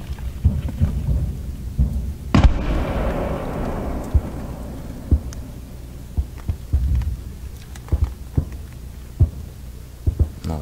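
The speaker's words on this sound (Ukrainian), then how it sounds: "Це от виходи градом." Distant Grad rocket launches or phosphorus shelling at a Ukrainian front line: one sharp, heavy boom followed by a long fading rumble, then scattered dull thuds and knocks over a low background, no talking.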